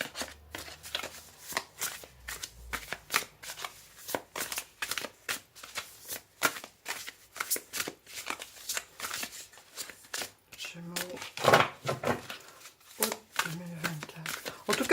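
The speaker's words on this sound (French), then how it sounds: "On va tirer une autre carte de l'oracle de Destin Sacré." Oracle cards from the Destin Sacré deck are shuffled by hand close up in quick riffling bursts of papery slaps and flutters, with a voice speaking briefly near the end.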